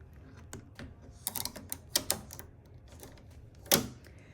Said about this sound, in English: now let's add the hoop to the machine